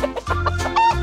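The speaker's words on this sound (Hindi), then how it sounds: "मुर्गी।" A chicken clucks in a quick run of short, close notes, loud and clear with no talking.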